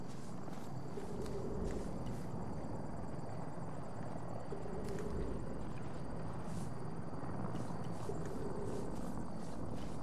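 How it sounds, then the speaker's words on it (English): Helicopter in the S.T.A.L.K.E.R. video game, its rotor thudding steadily at a distance, faint and continuous for the whole stretch with no talk over it. "Helicopter northeast."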